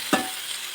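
Tomatoes sautéing in a pan for Tamil tomato chutney, a steady hiss of frying with a single spoon stir or clink near the start, close and fairly loud.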